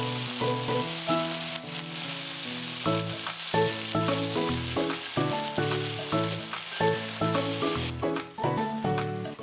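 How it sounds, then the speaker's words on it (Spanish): Meat sears in a hot pan with oil, a steady close sizzle running throughout, with lots of tonal clatter and ringing on top, suggesting utensils or background music mixed in. "Agregamos la carne y sellamos por ambos lados"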